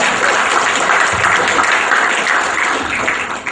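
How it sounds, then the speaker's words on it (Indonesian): A live audience gives steady, dense applause for the whole stretch, loud and close, with no clear voices over it. "Mana tepuk tangannya?"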